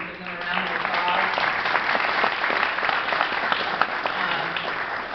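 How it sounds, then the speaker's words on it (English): A large room of attendees at a graduation ceremony applauds, a continuous wash of clapping that holds steady for several seconds, with some talk mixed in faintly. "Give them a round of applause."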